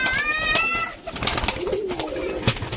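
Rajshahi Giribaz pigeons being released from a loft, with a few soft coos and chirpy calls over a steady outdoor rustle and flutter, moderately close.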